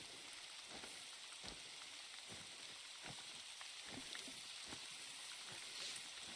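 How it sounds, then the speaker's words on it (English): Nighttime rain in the hunting video game theHunter: Call of the Wild on the Emerald Coast Australia map, a faint steady hiss with scattered soft drops throughout. "It's been rainy all night as well, which is really good for us."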